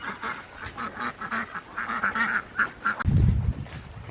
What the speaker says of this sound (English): mama ducks are off the nest here